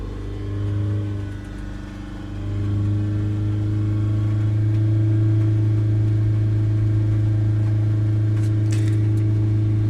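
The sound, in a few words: Toyota RAV4 2.2 D4D diesel engine revving to 3000 RPM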